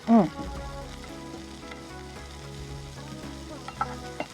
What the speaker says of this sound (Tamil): இதெல்லாம் நம்ம கொஞ்சம் வதக்குறோம்.